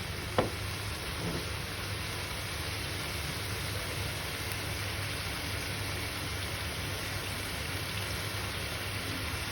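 Green beans cooking in a pan with dark sauce give a steady, even sizzle throughout, with a single utensil clink near the start and no talking.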